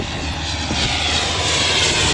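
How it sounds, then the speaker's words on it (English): A large Australian Border Force aircraft passes low overhead near a remote island, its engines giving a loud, steady roar that holds and swells slightly across the whole stretch, with no voices over it. "I've never seen such a big plane come so low straight at us."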